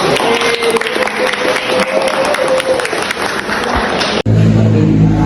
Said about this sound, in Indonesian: Oke, beri tepuk tangan buat Fadil